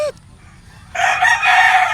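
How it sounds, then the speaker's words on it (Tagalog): A rooster crows loudly and close, with chickens clucking around it; after a brief quieter stretch the crowing swells up and holds strong to the end. "Nagingay tuloy yung mga manok."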